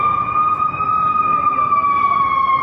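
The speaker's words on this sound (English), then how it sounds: "That was an ambulance" An ambulance siren wails steadily and loudly near a downtown shooting scene, its tone sliding slowly downward as it passes, with heavy traffic rumble underneath.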